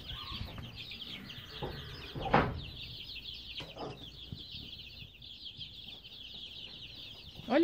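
Chickens and chicks cluck and peep on a ranch, with steady high chick cheeping running throughout and a few nearer hen clucks and scuffs breaking in, with no talk.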